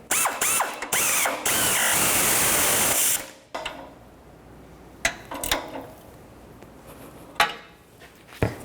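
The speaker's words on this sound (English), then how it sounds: "Now I'm going to tighten the nut on the stud for the converter part and bracket, 15mm socket." A 15mm socket on a ratchet tightening the nut on a converter stud and bracket of a catalytic converter exhaust manifold assembly on a 2006-2012 Toyota RAV4, loud rapid ratchet clicking for a few seconds, then scattered metallic clicks and clunks.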